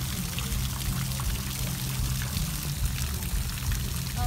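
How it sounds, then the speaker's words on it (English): Water spouting from fish statues into a city fountain pool, a steady continuous splashing pour that fills the whole stretch evenly, heard fairly close without interruption. "Oh, it's all fish that are spritting with water."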